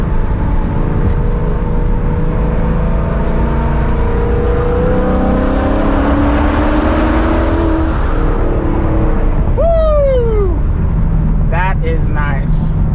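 A 2018 Mustang GT Premium pulls hard in third gear through a tunnel. The engine note climbs loud and close, building steadily with a short, sharp squeal near the end before the revs drop away.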